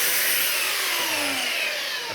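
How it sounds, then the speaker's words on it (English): A belt sander grinding paint residue off an old wooden beam during a renovation runs steadily at close range, a loud, continuous hiss and whir with a slight pitch sag. "what I've been doing for the last maybe 10 minutes is just sanding with a belt sander"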